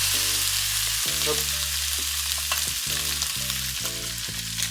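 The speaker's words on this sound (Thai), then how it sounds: "ทุกคนนะผัดให้เข้าที่นะครับ" Beef for Thai basil kaphrao stir-fries in a pan with a steady, loud sizzle and frying crackle that runs the whole time, and tonal background music sits underneath.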